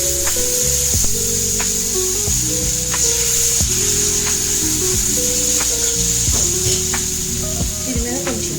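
Oil sizzles steadily under a dosa frying on a hot pan, a constant hiss running throughout with a few light scraping or stirring taps, and faint background voices or music under the sizzle.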